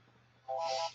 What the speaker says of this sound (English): Apologies for the ringing phone in the background there.